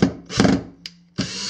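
Self-tapping screws are driven into wood with a power driver in short, loud bursts: two longer whirring runs, a brief click, then another burst starting up, all close and with no talk.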